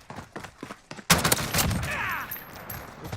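After a second of muffled voice, the Oden rifle in a first-person shooter game cracks out a few sharp, loud shots, leaving a ringing, echoing tail.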